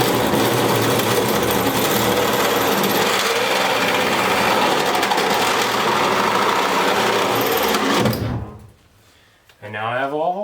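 A drill with a 1.25 inch hole saw cuts through a van's side panel, a loud continuous buzzing grind lasting about eight seconds before stopping abruptly, followed by a brief quiet gap and then a wavering hum.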